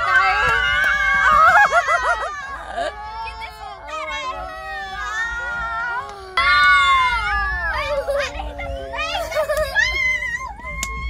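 A child shrieks and wails loudly in long, high-pitched cries, close by, with a few short breaks between screams.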